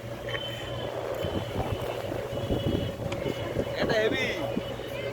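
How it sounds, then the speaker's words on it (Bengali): Strong wind buffets a boat crossing the Ganges beneath the Nivedita Bridge, a steady roar of wind noise over a low engine hum, with people talking nearby throughout. "হাওয়া কত বাপরে বাপ"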